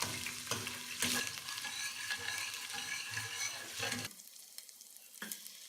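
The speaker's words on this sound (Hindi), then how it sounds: "एक पैन में घी या तेल गरम करें, इसमें लहसुन और अदरक फ्राई करें।" Garlic and ginger frying in hot ghee or oil in a pan, a soft steady sizzle with scraping stirs and clinks of a spoon, fairly quiet and close, with no voices.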